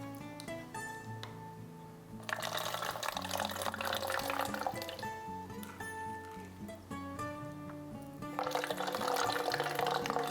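Rice water is scooped and poured into a bottle in bursts, a splashing, gurgling fill that starts, pauses and resumes, close up over a background of soft music, with no talking.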